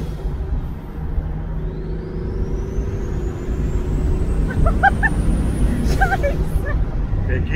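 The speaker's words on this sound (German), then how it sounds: "Aber so den dritten Gang kurz beschleunigen." A VW Golf 4 Cabrio VR6 Turbo accelerating briefly in third gear, a steady engine drone under road noise with a rising turbo whine across the clip, heard from inside while people talk.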